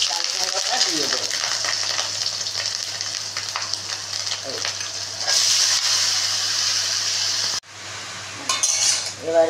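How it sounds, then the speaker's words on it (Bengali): Ash gourd frying in oil tempered with nigella seeds and green chillies, a steady close sizzle with stirring and utensil scrapes, briefly dropping out near the end before resuming. "দেখো এই যে কালো জিরে ফোড়ন দিয়ে দিচ্ছি, দিয়ে আর এই যে কাঁচা লঙ্কা ফোড়ন দিয়ে আমি চাল কুমড়োটা দিয়ে দেবো।"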